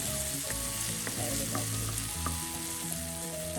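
Tomatoes and prawns sizzling in a pan for a spicy prawn and small-onion stir-fry, a continuous close crackling fry with occasional stirring scrapes.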